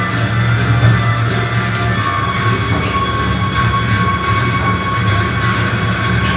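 A train rolls past, loud and close, with a continuous heavy rumble of wheels on rails, rhythmic clatter and a faint metallic squeal, used as a sound effect within a sermon story.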